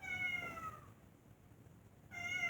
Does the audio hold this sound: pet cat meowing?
yes